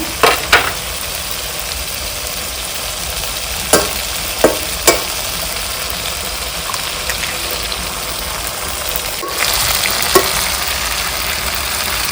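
Egg goes into a pan of frying tomato mixture, a steady sizzle with a few sharp spatula clinks and taps scattered through, close and fairly loud.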